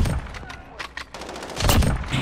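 Rapid video game gunfire in several short bursts, ending in a louder dense volley, close and sharp with brief gaps between shots.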